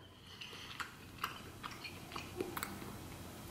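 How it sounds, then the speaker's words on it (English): Lobster meat from a seafood boil being chewed up close, with soft wet mastication and a series of light crunchy clicks spread over a few seconds, fairly quiet. "notice I'm chewing longer"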